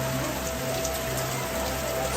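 Rain falls steadily in the Bali hills, a dense, even wash of drops at close range with no pauses, voices or other sounds.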